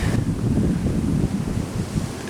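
Heavy wind gusting to about 15 knots buffets the microphone in a continuous low roar with rough gusty surges and no other clear sounds, in Kansas.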